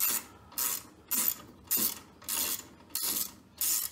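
Bolts on a Westinghouse 28000-watt generator are loosened with a ratchet wrench, giving seven even, close-up bursts of clicking at a steady rhythm.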